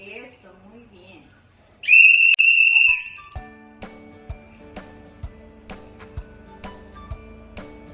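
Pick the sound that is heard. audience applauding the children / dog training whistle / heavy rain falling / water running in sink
dog training whistle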